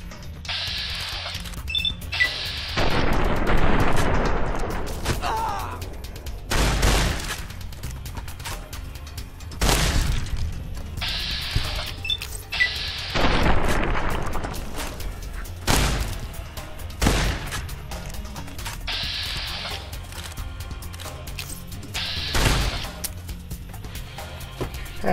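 Shotgun fire in Fallout: New Vegas, heavy single blasts spaced a few seconds apart among game ambience and mechanical clicks, each shot a sharp loud burst followed by a short decay.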